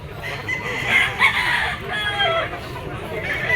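A two-year-old Hatch Grey gamecock rooster crowing and clucking nearby in a farm setting, with faint background voices under its calls.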